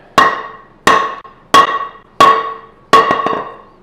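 Five sharp wooden knocks as a glued table leg is bounced against the floor to work glue into a crack, spaced under a second apart, loud and close with a ringing decay, the last one followed by a few smaller rattling taps.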